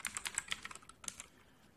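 Quick, faint keystrokes on a computer keyboard, a short burst of rapid clicks that trails off within two seconds.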